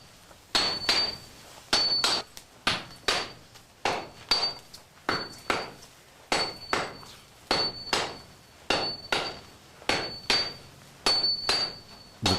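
A Japanese sword blade of composite steel is shaped with a hand hammer on an anvil: about twenty close, loud, bright ringing strikes land in a steady rhythm, each leaving a brief metallic ring.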